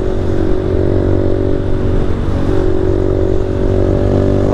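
A motorcycle cruising at high speed, around 160, in the rain, its engine a steady droning hum beneath a constant broadband rush of wind and rain spray, with no pauses or gear changes.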